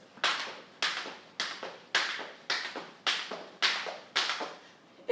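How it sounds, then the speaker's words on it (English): Sharp hand claps during a jump rope drill, about nine evenly spaced single claps in a steady rhythm, fairly close and clear with no talking over them. "at the top, you can give me a clap of your hand to the side"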